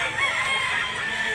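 A bullstag fighting rooster crows in a long, strained, high call, close and clear against a quiet backdrop.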